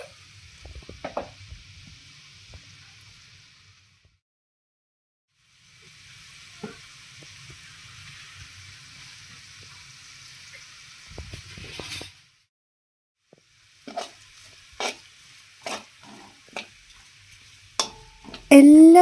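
Chili powder, Kashmiri chili powder, asafoetida and turmeric fry in a pan of oil for homemade fish pickle, a steady close sizzle with stirring that pauses, returns, then breaks into sharp clinks and scrapes near the end.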